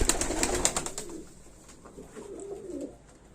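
Pigeons coo softly close by, a low throaty burbling after a brief burst of fluttering and scuffling.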